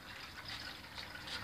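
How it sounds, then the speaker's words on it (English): Water from a supply tank runs through pipework into a hydroponic growing system, giving a steady, continuous gushing and filling sound at close range with no pauses and no voices. "Okay, now the water comes in"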